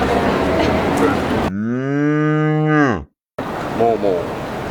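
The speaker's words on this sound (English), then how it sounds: "Is it a cow? Moo." A cow gives one long, loud, close moo with a strongly harmonic tone that rises and then tails off, preceded and followed by people talking.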